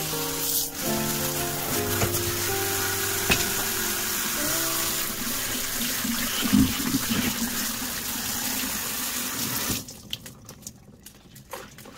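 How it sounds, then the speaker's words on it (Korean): Blanched perilla leaves rinsed in cold water at a kitchen sink, with running water splashing and gushing steadily for about ten seconds before stopping, followed by softer handling sounds, along with some faint background music. "끓는 물에 데쳐진 깻잎은 찬물에 헹궈주세요."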